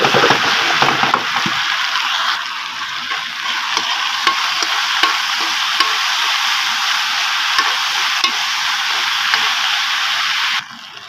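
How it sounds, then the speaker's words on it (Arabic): Freekeh stir-fried in two spoonfuls of ghee in a wok on a gas stove, a loud continuous sizzle with rhythmic stirring scrapes throughout, briefly louder at the start. "هنيجي هنا في الوok بقى على البوتاجاز، حطيت معلقتين سمنه وهنزل بالفريك هديله تشويحه"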